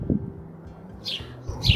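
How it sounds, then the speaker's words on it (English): A bird chirps in a backyard garden, giving two short high tweets close together near the end over a low background rumble. "Just a moment for the bird."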